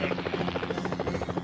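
A search-and-rescue helicopter in Helicopter Simulator 2014 drones with a steady, loud rotor beat, a rapid rhythmic thudding over a constant engine whine, continuous throughout.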